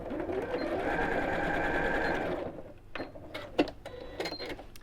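A sewing machine stitches across the folded ends of fabric for a child's backpack, running steadily for about two and a half seconds and then stopping, followed by a few light clicks and handling sounds.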